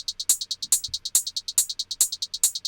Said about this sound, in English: Alright, next up we've got this hat loop.